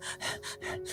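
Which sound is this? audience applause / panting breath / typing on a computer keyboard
panting breath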